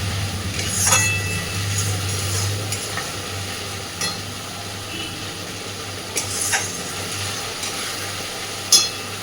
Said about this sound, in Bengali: মশলাটা সুন্দর করে একটু সময় ধরে মশলাটাকে কষাতে থাকবে, যতক্ষণ না মশলার কাঁচা গন্ধ চলে গিয়ে মশলা থেকে তেল ছাড়ছে